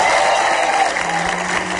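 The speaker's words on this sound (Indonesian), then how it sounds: "kasih tepuk tangan dong" Studio audience applause on an Indonesian TV talk show, a loud, dense wash of clapping that holds steady through the short stretch, with faint voices under it.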